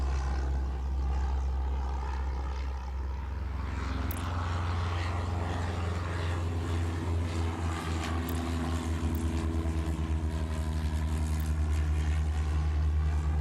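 Propeller airplanes in the airport game Airport Madness: Time Machine, set in 1925-1928, give a steady, loud, droning engine hum throughout, with layered tones shifting as planes move, no talking.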